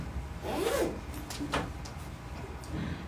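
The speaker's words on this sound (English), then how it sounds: "You've got your zipper top." A zipper on a patchwork heart-shaped pouch being pulled, a quick rasping zip followed by a second shorter pull, close and fairly quiet.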